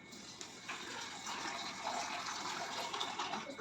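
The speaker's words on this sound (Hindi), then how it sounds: "तो अब इनको हम पानी डाल करके भिगो देते हैं।" Water poured over dry fruits such as almonds to soak them, a steady soft gushing stream running for several seconds without a break, fairly quiet and with no talk.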